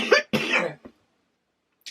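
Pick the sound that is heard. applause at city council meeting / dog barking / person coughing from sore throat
person coughing from sore throat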